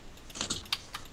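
Quick keystrokes on a computer keyboard during a Minecraft city-building session, a short burst of a few close, crisp clicks with no voices.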